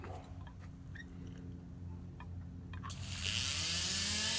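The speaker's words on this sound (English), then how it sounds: "We get the Dremel on, drag it through there a little bit." A Dremel rotary tool fitted with a buffing wheel spins up and keeps running in a steady, thin, high whine that swells louder over the last second or so, following a low hum and a few light clicks.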